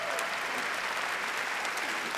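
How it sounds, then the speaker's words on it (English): Audience applause at the 76th Primetime Emmy Awards, a steady, dense wash of clapping from a large crowd that holds even and fairly loud throughout, with no pauses. "And you're applauding that I'm old?"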